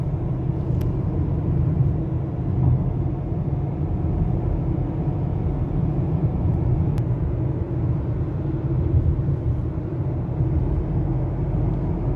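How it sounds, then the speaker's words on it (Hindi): Airplane passing overhead in Jeddah, a steady low roar and rumble that holds evenly loud the whole time, with no talk. "जा रहा है जी जहाज़ ऊपर"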